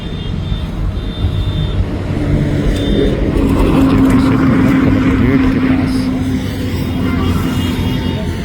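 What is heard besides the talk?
vehicles moving smoothly on JP Setu bridge, Patna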